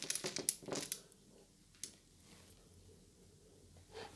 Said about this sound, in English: Here we got the gold coins.